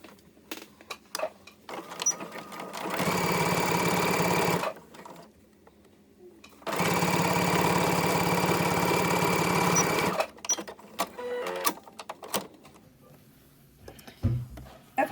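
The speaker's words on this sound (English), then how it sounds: "we're going to stitch with a 1/4 inch seam allowance" A sewing machine stitches the ends of a fabric scrunchie together in two sustained runs of rapid whirring, close and loud, separated by a pause with light handling and fabric rustle.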